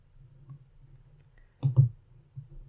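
A computer mouse gives a close, soft double click near the middle, then a fainter click, over a quiet low hum.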